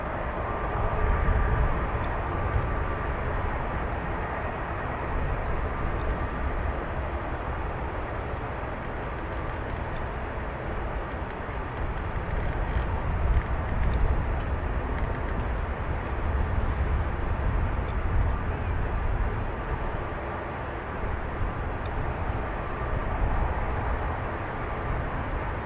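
An airplane departing Dublin Airport, heard as a sustained, broad jet roar that stays loud and steady throughout, with no voices.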